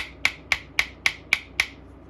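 Six sharp, evenly spaced hammer taps seat a new cap onto a fuel injector, each a crisp close knock about a quarter second apart with nothing else in between.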